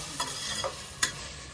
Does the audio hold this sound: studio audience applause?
no